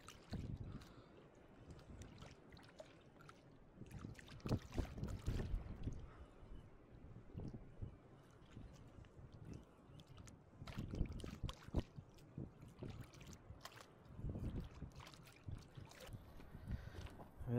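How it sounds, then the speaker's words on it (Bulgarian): Strong, gusty wind in the village of Shanovo, beside former screening works: low, rumbling buffeting surges and fades in uneven gusts, with no voices. "Вятъра стана все още и още по-силен."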